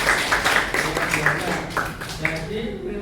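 High school students in a classroom clap for a group that has just presented. The applause is a busy, continuous patter, with voices talking over it throughout.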